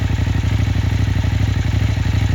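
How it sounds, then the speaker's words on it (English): Kove 800X Pro adventure motorcycle idling with a deep, steady exhaust burble, a loud, close, even pulsing throb with rhythmic low thumps and faint clatter throughout, no voices. "This exhaust is meaty."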